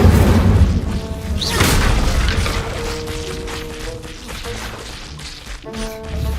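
Fiery Incendio spell cast in the video game Hogwarts Legacy: a loud burst and crackling whoosh with mechanical clanks over steady game music, with no talking.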